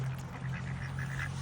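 Ducks at an animal park near Adelaide give a short run of nasal quacks, close and fairly loud over a low steady hum, with no voices.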